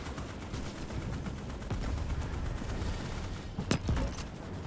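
Turret machine-gun fire in the video game Starship Troopers: Extermination, during a night sandstorm: continuous dense crackle of gunfire with a couple of sharper louder bursts near the end.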